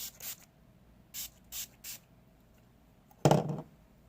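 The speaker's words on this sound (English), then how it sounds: "I'm going to go ahead and spray my face with this cucumber again." A cucumber face mist bottle sprays in short bursts, three to four quick hissing pumps, then a louder close spritz near the end, with quiet pauses between.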